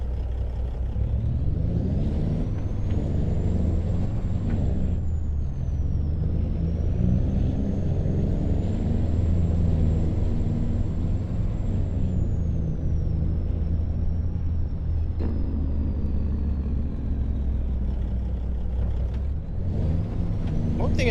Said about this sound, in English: I wish you could hear the Jake brake on this truck a little bit better when you're inside the cab